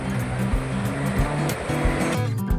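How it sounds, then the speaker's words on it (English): Sea waves breaking on a Goa beach near Sinquerim Fort on a summer day, a steady loud wash of surf rolling continuously with low rumbling swells throughout. "The sound of waves is always calming and peaceful to the mind and soul."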